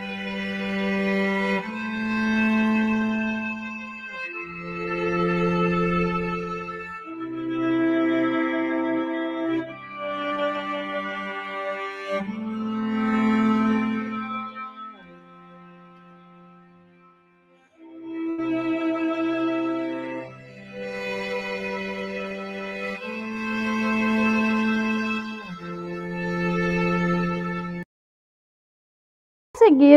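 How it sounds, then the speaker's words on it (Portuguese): Solo violin playing a slow melody of sustained, clearly pitched notes in phrases, with a brief pause in the middle and a short break near the end, heard alone in a classroom demonstration of instrument sounds. "Então, esse foi o som do violino"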